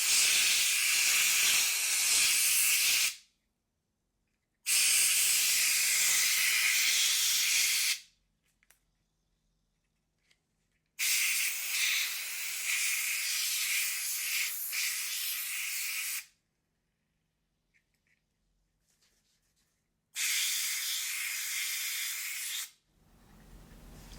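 Compressed air blasting a fan clean, loud steady hissing bursts of several seconds each, four of them separated by quiet gaps, close to the mic.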